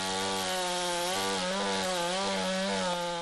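Chainsaw or tree mulcher cutting up storm-felled trees on Auckland streets, a steady loud motor whine with rising and falling pitch as it works through wood, continuous and close.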